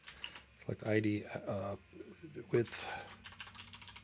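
Computer keyboard typing in short clicky bursts, with a person talking over it.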